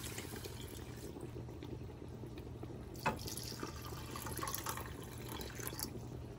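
Water poured into a pan for cooking white rice, a faint trickling and splashing stream running steadily, with a brief louder splash partway through, with no voices.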